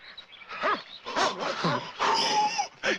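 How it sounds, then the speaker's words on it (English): Dog giving short yips and whimpers in uneven bursts, close by, mixed with a person's voice. "That's a dog."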